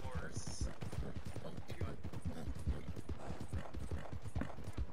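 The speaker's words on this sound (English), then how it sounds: "This is an NPC horse." Horse hooves clip-clopping in a video game trail ride, a quick steady run of hoof beats close up, with a voice speaking over parts of it.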